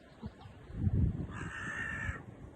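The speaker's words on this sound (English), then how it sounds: "I like crow." A crow caws near a quiet boat anchorage in the morning, its harsh calls rising over soft low water and ambient noise, the last caw drawn out and clear.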